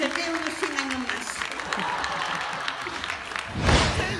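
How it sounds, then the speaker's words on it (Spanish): An audience breaks into applause at a live variety show, a broad wash of clapping and crowd noise heard at moderate distance under a voice, swelling slightly near the end. "Pero yo aquí quiero aplaudir a don Alfonso"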